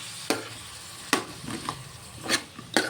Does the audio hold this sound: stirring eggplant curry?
yes